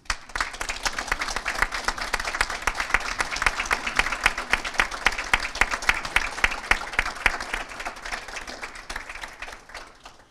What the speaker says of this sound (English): express thanks for the support that you have received over the years by acclamation, applause,